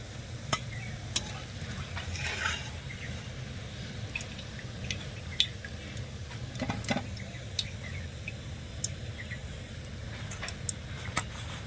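Sweets deep-fried in oil until reddish-brown are lifted out with a spoon, a steady low sizzle of hot oil running throughout, with scattered light clicks and drips of utensil against pan, no talking.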